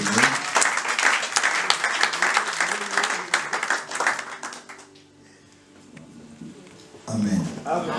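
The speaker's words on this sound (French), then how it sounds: "Est-ce qu'on peut acclamer très fort pour le Seigneur?" A church congregation bursts into loud, sustained applause and cheering for the Lord, a dense wash of clapping that fades out, after which talk begins under a faint room hum.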